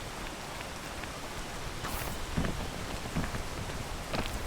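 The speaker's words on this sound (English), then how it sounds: "Oh, I shouldn't do this while it's raining." Steady rain falls in a video game, a dense close hiss of drops that runs the whole time. A few soft thuds sound under it, and no one speaks.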